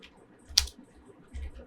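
Typing on a computer keyboard at a desk, with a couple of short bursts of key clicks separated by a quiet pause, fairly close and alone.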